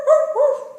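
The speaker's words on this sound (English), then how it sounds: "When the zookeeper comes to feed them, the sea lions gather around, barking even louder." A single short, loud, tonal bark from a sea lion at a zoo around feeding time, close and clear, with a wavering honk-like pitch and no talking.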